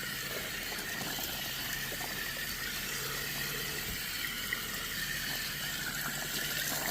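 Water rushes steadily as it flushes pet urine out of a thick area rug being rolled, a continuous hiss and gurgle at moderate level with no talking.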